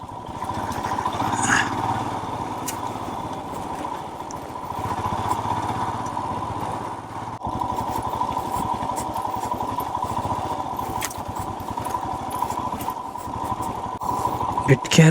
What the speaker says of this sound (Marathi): दगडावर स्कीड होऊ शकते मोटरसायकल पुन्हा दगड आहेत